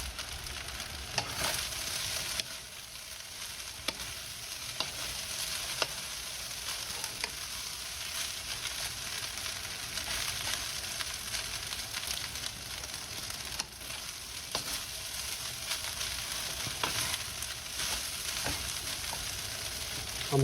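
Filipino fried rice sizzles loudly and steadily in a hot pan for the whole stretch, with the scrape and clatter of stirring and breaking up lumps cutting in now and then.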